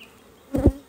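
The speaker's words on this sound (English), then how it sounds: "So that means this hive is full of bees." Honey bees at an open hive, a brief close buzz that swells and fades in under a second over quiet background.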